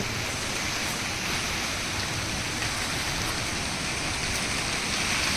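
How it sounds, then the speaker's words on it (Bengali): Heavy rain falls during a thunderstorm with lightning, a dense continuous hiss of drops that stays steady and loud with no talking. "ঝড় বৃষ্টি শুরু হয়ে গেছে"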